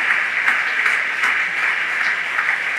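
Sustained applause from a congregation at an evangelical church service, many hands clapping together in a steady, fairly loud wash with a few sharper claps rising out of it.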